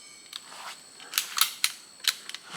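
Umarex Notos G2 air rifle firing at long range outdoors, a string of sharp, dry cracks and snaps in an uneven cluster of roughly half a dozen close-up shots, with no talking.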